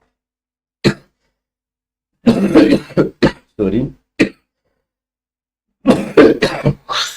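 A person coughs repeatedly, with several harsh bursts close up separated by pauses and a brief spoken word between them.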